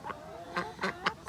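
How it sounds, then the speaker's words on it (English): Several chickens in a morning yard give short, soft clucks, about four brief calls spaced unevenly over a second, near and fairly quiet. "Here's all my chickens here this morning."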